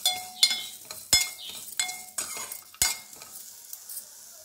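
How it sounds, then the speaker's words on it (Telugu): Chopped onion, grated coconut and fenugreek seeds frying over high flame for a Telugu fish curry, with a steady close sizzle broken by sharp scrapes and clinks of a utensil stirring against the pan, no voices. "ఇవి కొంచెం బ్రౌన్ కలర్ వచ్చేంత వరకు అయితే ఇట్లా ఫ్రై చేయండి"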